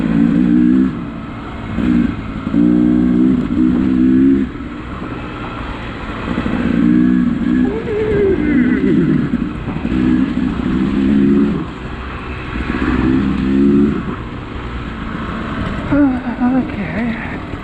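Off-road vehicle climbing the Benson Ridge Trail in third gear, a loud close engine drone with a steady low hum that surges in repeated bursts as the throttle rises and eases.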